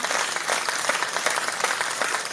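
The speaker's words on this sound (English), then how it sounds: "give you a little clap" A small group gives a short burst of steady clapping, close and fairly loud, with dense overlapping hand claps throughout and no talking over it.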